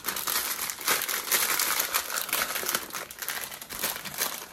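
Someone crinkles a bag of original flavoured Hula Hoops crisps in steady, close crackling bursts with no talking.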